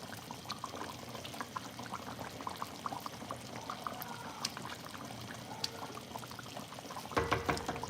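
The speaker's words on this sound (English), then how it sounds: "So the rest of my coconut milk, I'm just gonna pour it into my pasta" Coconut milk pours into a pot of cooking pasta with a soft, low liquid trickle and faint bubbling, quiet and close throughout, swelling into a louder splashing gush near the end.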